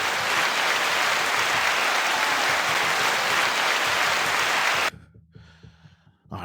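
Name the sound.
audience clapping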